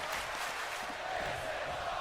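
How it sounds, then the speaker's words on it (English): Wrestling crowd in a video game chanting and roaring as one continuous dense wash of voices, loud and steady, with no break and no single voice standing out. "the crowd, of course, now they were chanting, this is awesome"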